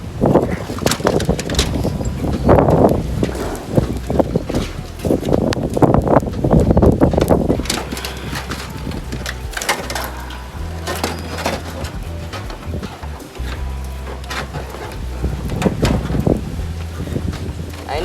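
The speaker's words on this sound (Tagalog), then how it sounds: "Lakas na ng hangin dito, guys." Strong gusting wind roars and buffets the microphone as Typhoon Uwan approaches, a steady loud rush with surging gusts throughout, and voices talk briefly over it.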